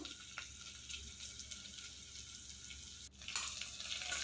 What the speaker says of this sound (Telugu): ఇవన్నీ వేసి బాగా ఫ్రై చేసుకోవాలి.